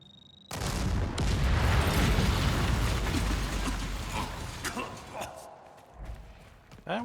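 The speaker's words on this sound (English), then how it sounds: "That was a big explosion sound." A loud explosion booms in the video game Dying Light: The Beast, bursting suddenly and rumbling on for several seconds with debris-like crackle before fading into quieter game sounds.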